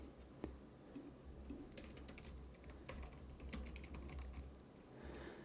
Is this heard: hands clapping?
no